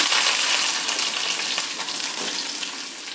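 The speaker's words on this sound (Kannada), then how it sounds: "ಎಣ್ಣೆ ಬಿಸಿಯಾಗಿದೆ ಸಾಸಿವೆ ಈರುಳ್ಳಿ" Mustard seeds and onion frying in hot oil in a home kitchen, a steady, close crackling sizzle that holds loud and even throughout with a dense spitting texture and no voices.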